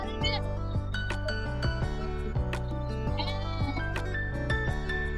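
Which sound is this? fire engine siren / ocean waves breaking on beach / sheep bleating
sheep bleating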